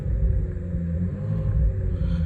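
A Vauxhall Astra VXR GTC with a 2.0 turbo engine revs steadily, a deep continuous rumble holding at a low, even pitch close by, with no voices over it.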